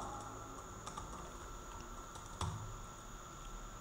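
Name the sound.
computer keyboard typing, pressing Ctrl+S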